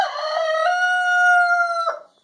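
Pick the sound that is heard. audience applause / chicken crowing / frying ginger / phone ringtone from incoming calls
chicken crowing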